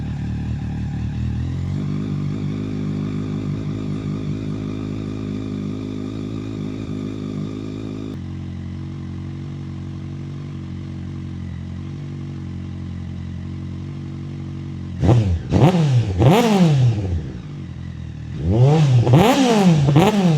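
A Mazda Miata carrying a Honda CBR1000 motorcycle engine with a new turbo and full exhaust drones at a steady high idle, then snaps through sharp, rising revs in two loud bursts.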